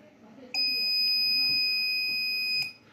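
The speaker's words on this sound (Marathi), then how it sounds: "एक वेळा बझर वाजलं" An electronic buzzer on a smart automatic braking car device sounds once as it switches on, a steady high-pitched tone held for about two seconds, close and loud over a quiet background.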